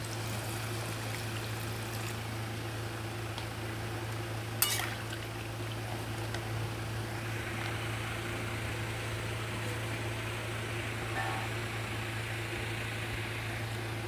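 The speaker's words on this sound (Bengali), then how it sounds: "এই পর্যায়ে আমি একটু জল দিয়ে দেব।" Water poured into a pan of ridge gourd and prawn curry with softened potatoes, a steady trickling wash under a constant low kitchen hum, with one brief clink of utensils partway through.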